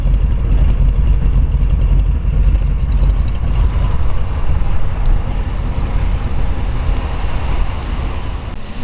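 A 1948 Ford Super Deluxe Woody Wagon with dual exhaust idles cold, just pulled out of a collection, giving a steady, close low rumble that holds even and unbroken throughout with no talking.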